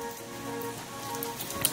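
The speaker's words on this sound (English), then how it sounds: "Oh, it's raining now." Light rain falls in a soft, steady patter with a few sharper drops near the end, fairly quiet and with no one talking.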